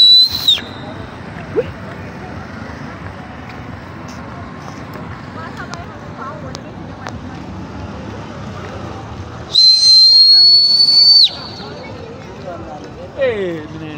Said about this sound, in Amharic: ቦዲጋርድ እያንፏጨ ነው ሰው ለመጥራት